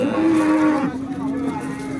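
At the Yakkatut cattle market in Andijon, a cow lets out one long, loud, nearby moo that tapers off, with faint market bustle behind it.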